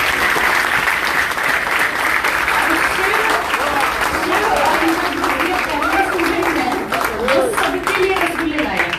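A crowd gives sustained, loud applause at a celebration honoring Shivkumar's selection for a government job, dense clapping filling the whole stretch with some voices mixed in.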